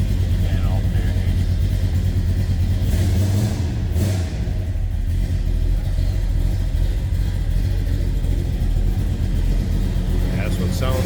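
A 1968 Dodge Charger R/T engine runs steadily after a cold start, a continuous loud low rumble close by with small swells of revs throughout.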